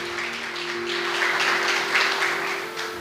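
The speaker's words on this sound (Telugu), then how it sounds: "అందరము చప్పట్లతో దేవుని గనపరచుదాం" Church congregation clapping together in praise, a dense sustained patter of many hands rising slightly toward the middle, with a steady tonal hum from sound equipment underneath.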